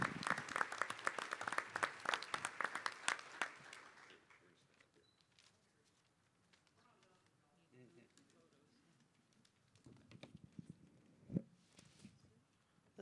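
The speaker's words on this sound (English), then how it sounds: "please give a round of applause to Cortland McCallum" Audience applause at a school board meeting, loud dense clapping for the first few seconds that fades into scattered claps and faint murmuring, with a few louder claps returning near the end.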